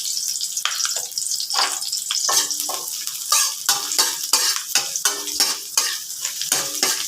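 Garlic sautéing in a frying pan for Filipino ginisang cauliflower, a loud continuous sizzle broken by repeated scraping stirs of a spatula against the pan.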